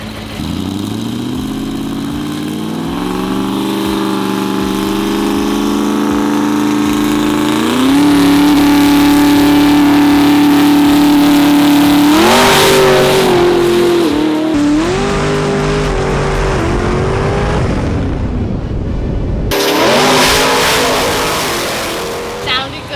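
A diesel pro dragster makes a drag racing pass, its engine droning loud and steady as it climbs through rising gears with sharp shifts, then cutting off abruptly near the end before a brief burst returns.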